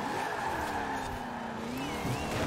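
Race car from Forza Horizon 4 rented out at high speed, a steady engine drone with tire squeal sliding through a turn, loud and close with no talk over it.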